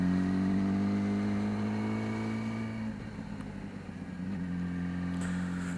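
Yamaha R6 sport motorcycle engine in gear with the throttle wound open, a steady droning whine that dips around the midpoint and then climbs again, close and continuous with no talk.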